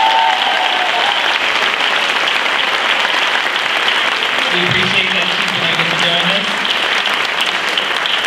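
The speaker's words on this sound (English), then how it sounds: "If, everyone could give her a round of applause." A graduation ceremony audience applauds steadily and densely throughout, with a speaker's voice talking over the clapping.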